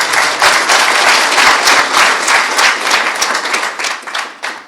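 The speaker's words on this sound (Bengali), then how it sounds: "জোরে হাততালি দেবেন" A crowd of expatriates at a gathering with Bangladesh's Chief Adviser in Qatar breaks into loud, sustained applause, dense clapping that stays strong and then begins to taper at the end.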